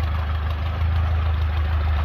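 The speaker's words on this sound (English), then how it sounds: "It actually started up kind of okay this time around, which makes me still think that it's a compression" An Allis Chalmers 6-12 tractor engine idles steadily after starting, a close, continuous low rumble with an even beat and no talk.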